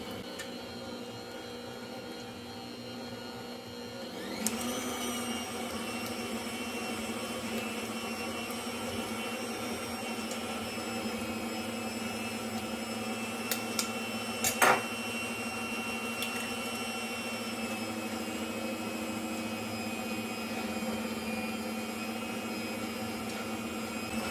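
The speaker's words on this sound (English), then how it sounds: "we're going to turn our electric stand mixer up now to medium-high speed" Electric stand mixer running at medium-high speed on egg-enriched choux pastry dough, a steady loud motor whine with a sharp rise about four seconds in, then a constant drone with a few brief clicks, no talking.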